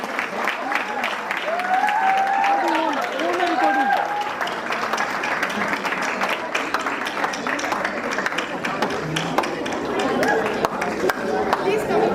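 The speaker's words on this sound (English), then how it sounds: "Please give them a thunderous round of applause" Thunderous applause for the winning school at a school awards ceremony, a sustained wall of clapping with cheering voices and crowd chatter running throughout, loud and close.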